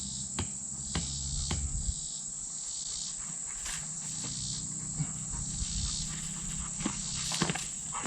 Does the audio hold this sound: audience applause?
no